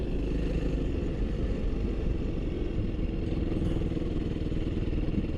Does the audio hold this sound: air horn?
no